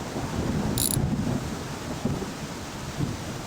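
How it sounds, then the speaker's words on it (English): Thunderstorm with a low, continuous rumble of thunder and steady rain, a few heavier rolls and thumps rising out of the wash, fairly loud and close, with no voices. "hopefully the storm will let up"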